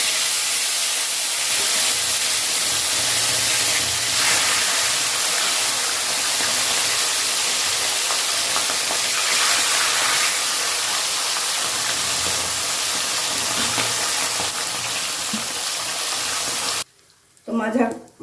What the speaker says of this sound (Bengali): তো মাছগুলো ভাজা কমপ্লিট।